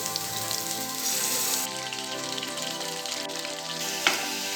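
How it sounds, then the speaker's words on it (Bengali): Raw jackfruit pieces frying in hot oil give a continuous bubbling sizzle like rain on a surface, with a soft stir or clink near the end and no speech. "তেল গরম হয়ে এসেছে, এবার আমি এঁচোড়গুলো একটা করে দিয়ে দেব।"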